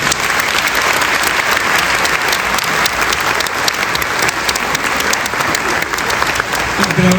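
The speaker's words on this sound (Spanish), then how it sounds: "Entonces, aplauso." A studio audience at a Spanish-language interview breaks into loud, dense applause that carries on steadily for several seconds.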